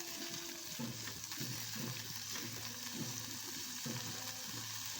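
A kottu mixture fries in oil in a pan on a low gas flame, a continuous close sizzle with soft rhythmic stirring scrapes and no voices.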